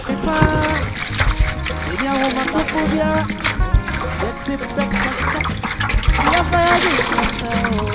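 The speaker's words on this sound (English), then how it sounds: "So we now wash our chopped bran, which is hibiscus leaves." Chopped hibiscus leaves are washed by hand in water for a soup, with sloshing and splashing under voices and music.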